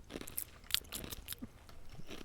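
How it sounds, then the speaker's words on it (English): Ice being chewed: a series of quiet, close crunches and cracking bites spread irregularly across the moment, soft overall with no talking. "Now I'm chewing ice."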